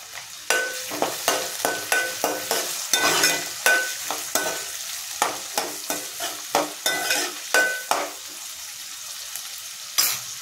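Green chillies and tomatoes fry in a pan for chicken biryani, with steady stirring that scrapes in quick repeated strokes over a soft continuous sizzle, close and moderately loud, no voices.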